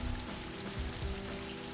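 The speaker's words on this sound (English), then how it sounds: "The rain poured down, a curtain of white noise" Heavy rain pours down as a dense, even hiss of drops on surfaces, continuous and enveloping with no breaks.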